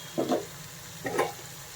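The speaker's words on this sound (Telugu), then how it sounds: "మెంతికూర కూడా బాగా వేగిపోయిందండి" Fenugreek leaves frying in a pan for an Andhra-style fenugreek and gram flour dish: two short scraping stirs, close and moderately loud, over a faint steady sizzle, with no talking.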